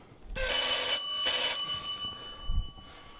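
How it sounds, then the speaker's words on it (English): An old telephone bell rings in two short bursts, bright and metallic, followed by a soft thump and quiet room noise. "we need telephones for that sound right there, for the sound of a telephone"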